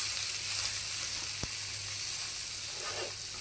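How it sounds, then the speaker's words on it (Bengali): Turmeric stirred into hot oil for red amaranth greens gives a steady close sizzle with a single sharp scrape of the spoon against the pan. "এবার ভালো করে নাড়াচাড়া করে দিব, মিশিয়ে দিব।"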